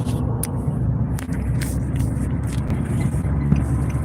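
Steady road noise from inside a car cruising on a highway, with a constant low rumble and tire hum throughout and a few faint clicks over it.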